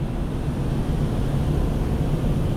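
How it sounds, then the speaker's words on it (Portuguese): Water rushing through the Itaipu dam at Foz do Iguaçu, a loud, steady, unbroken roar that fills the whole moment with no pauses or voices. "Dá pra escutar a água, ó."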